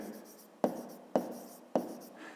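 Handwriting on paper during a fifth-grade maths exercise, three distinct sharp taps of a pen marking figures, close and fairly quiet, with faint scratching between them.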